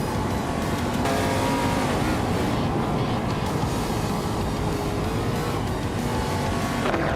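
Race cars speeding past, a constant loud engine roar with overlapping whines shifting in pitch as cars pass, steady and close with no voices.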